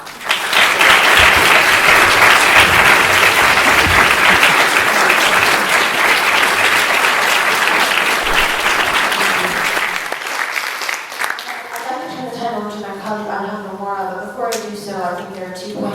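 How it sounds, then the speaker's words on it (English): Loud, sustained applause from a town hall audience for a panel discussing the transgender experience, steady for about ten seconds before tapering off as a speaker begins talking. "Would you please give them a big round of applause?"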